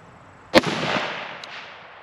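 A single sharp gunshot from a Ruger SFAR rifle fired outdoors at a target, a loud crack followed by a decaying echo tail with no talking.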